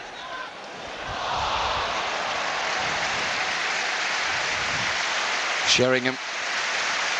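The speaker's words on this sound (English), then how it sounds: "receives applause from the Spurs fans, sympathetic ones" Spurs fans applauding in a football stadium during a Tottenham versus Manchester United match, a broad wash of crowd clapping and noise under a commentator's voice, steady and distant.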